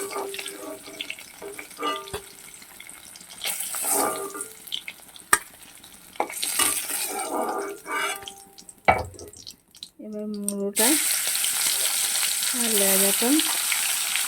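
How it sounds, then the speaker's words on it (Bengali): Hilsa fish frying lightly in hot oil, a steady sizzle mixed with clattering and splashing kitchen noises, growing louder and more continuous toward the end. "হালকা ভাজা হয়ে গেছে একদম হালকা মাছগুলোকে তুলে নিচ্ছি"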